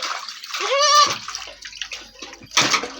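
A goat is plunged into a tub of medicated tick-removal water, giving loud close splashes and sloshing in two bursts, with a brief voice mixed in.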